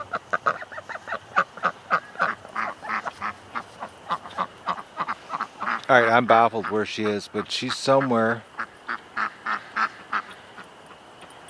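A duck quacks repeatedly in loud, rhythmic bursts near a creek, the calls carrying over a voice as he speaks.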